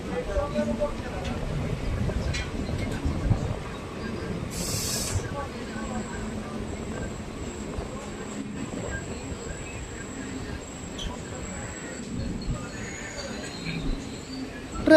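A train rolls into Elathur railway station with a continuous rumbling, hissing ride noise, a brief sharp high burst partway through, then a steady fading drone.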